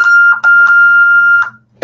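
A rewired 5820 security device gives a series of loud, close electronic beeps: a steady tone broken by short chirps, one long held beep, then a final brief chirp.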